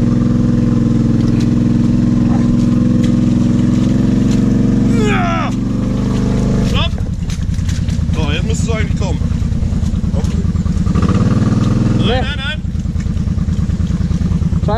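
A Kawasaki KFX 700 V-Force quad engine runs loud and close off-road, idling, then revving up in throttle bursts and settling back, with people talking over the engine noise.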